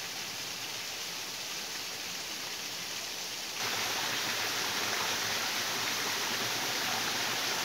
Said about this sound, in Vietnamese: Nước suối chảy róc ra róc rách,